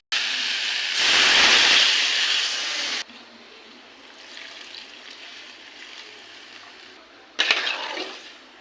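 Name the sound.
water being poured into a cooking pan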